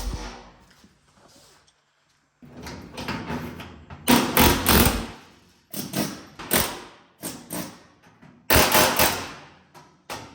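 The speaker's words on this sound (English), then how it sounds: "we're gonna see if we can get that last piece up here broke free with the old air chisel" An air chisel breaks off the last piece of an old firewall on a 1950 Ford F1 truck, firing in several loud, close bursts separated by short pauses.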